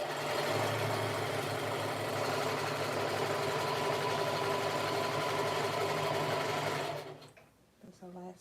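A sewing machine stitches fabric for a lounge set with a fast, even mechanical whir that runs steadily for about seven seconds before stopping, followed by quiet handling sounds.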